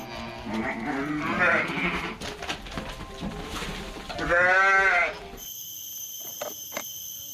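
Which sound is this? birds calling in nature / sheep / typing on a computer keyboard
sheep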